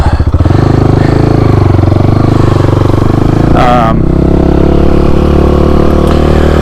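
GPX FSE250E motorcycle from 2021.5, its engine idling in neutral close up with a steady low chugging hum and a brief rev, while someone talks over it.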